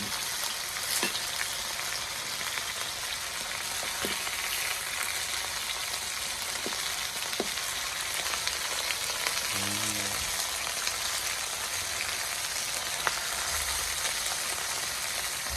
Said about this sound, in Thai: วิธีทอดแบบบ้านๆของเรานะครับ